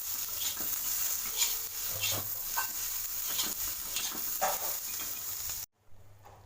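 Ingredients for a mint chutney fry in hot oil in a pan with a continuous sizzle and repeated stirring scrapes, then the sound cuts off abruptly near the end.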